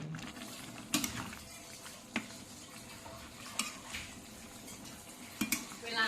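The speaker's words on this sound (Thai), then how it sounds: "ค่อยๆช้อนลูกค่อยๆช้อนไม่ต้องรีบ" A spoon scrapes and knocks against a pot of Thai southern curry with pork, shrimp and betel leaves, giving several sharp clinks spread irregularly over a low steady background.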